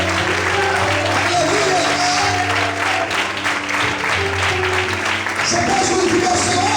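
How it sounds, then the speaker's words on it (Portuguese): Church congregation applauding steadily throughout, with sustained musical tones beneath and a preacher's voice exclaiming over the clapping. "Vamos poder aplaudir e exaltar a Deus do Senhor."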